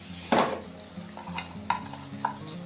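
Salt and red chili powder get stirred into spinach and potatoes frying in a pan, soft sizzling under a few distinct scraping spoon strokes and light clinks, close and fairly quiet.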